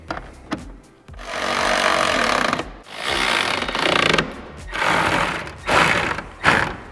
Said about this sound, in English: And we'll tighten them down with our 10mm socket.